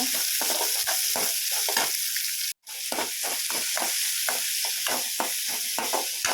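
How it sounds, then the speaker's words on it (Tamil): Steady sizzling of onions and green chillies frying in a pan, with rhythmic stirring scrapes throughout and a brief silent gap near the middle. "வெங்காயம் பச்சை மிளகா அதையும் சேர்த்துக்காங்க சேர்த்து நல்லா ஒரு வாட்டி வதக்கி விட்டுருவாங்க"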